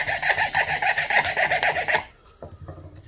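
A big file rasps back and forth across wood while shaping model plane ribs: about a dozen quick, even, close scraping strokes over two seconds, then quiet, with no voices.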